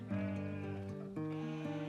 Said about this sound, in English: breed 200 sheep for their wool and their lambs